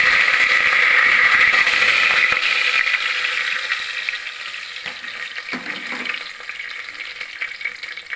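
Two bay leaves dropped into hot oil in a pan, giving a bright, steady sizzle that is loud at first and gradually settles down, with a few soft clinks of stirring near the end.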